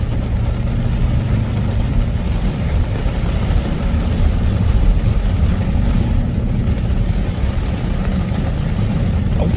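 A Dodge Charger Scatpack pushes through a flooded street in a heavy downpour: a loud, unbroken roar of rain and splashing water over a low engine rumble.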